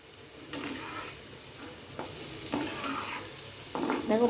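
Small sour mango pieces and onion fry in a pan, giving a steady low sizzle broken by several scraping stirs that grow a little louder toward the end, with no voices.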